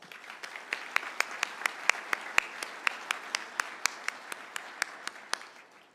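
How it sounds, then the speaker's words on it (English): Applause from the audience at the WEST 24 keynote, heard as a steady wash of clapping with sharp individual claps punctuating it at a regular pace for several seconds. "Please join me in giving Ray, Pete, and the WEST 24 team a big round of applause."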